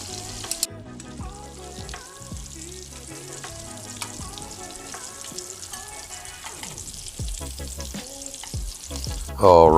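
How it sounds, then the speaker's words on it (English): Meatballs sear in a pan for Italian wedding soup, a steady close sizzle and frying crackle running throughout with scattered stirring clinks and a louder burst of hiss near the end. "one more round of searing the meatballs"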